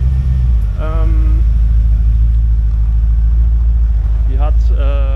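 A 1991 Corvette black convertible with the 5.7-litre L98 V8, automatic, idles with a loud, steady low rumble throughout, while someone talks briefly over it.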